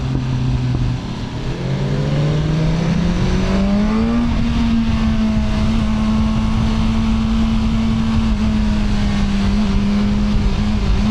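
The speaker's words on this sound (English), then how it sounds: "try out the new Super Duke from KTM bro" KTM Super Duke motorcycle being ridden, with a loud, steady engine drone close to the microphone that rises in pitch as it accelerates, then holds a constant cruising note against wind rumble.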